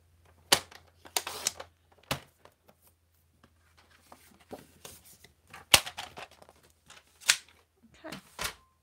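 A paper trimmer cuts cardstock for a handmade stamped card, giving a few sharp, close snaps and slicing scrapes in separate bursts, with quiet pauses between them.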